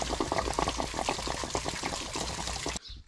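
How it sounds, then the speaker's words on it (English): Water draining out of a Lance RV water heater through its open pressure relief valve, a steady splashing, trickling gush close by that stops abruptly near the end. "I'm gonna open the pressure relief valve and let the water flow out"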